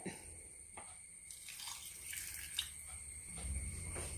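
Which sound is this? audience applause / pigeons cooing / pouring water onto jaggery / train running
pouring water onto jaggery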